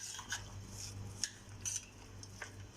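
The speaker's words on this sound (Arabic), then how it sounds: "نقلبهم كويس، نقلب الصوص كويس." A spoon stirs a mayonnaise sauce for coleslaw in a bowl, giving faint scrapes and a few sharp clinks against the dish over a low steady hum.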